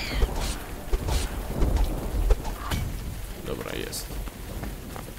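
Steady rainfall hisses in the video game Windscape, with occasional low rumbles, heavy and continuous, with scattered short noises layered on top.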